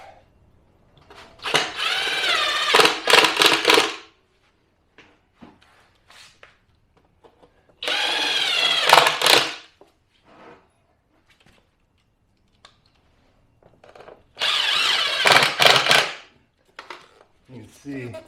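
A power drill drives screws into wood in three separate close bursts, each a few seconds of whining motor, with quiet pauses and small handling sounds between them.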